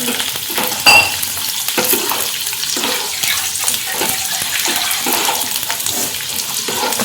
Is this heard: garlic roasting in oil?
yes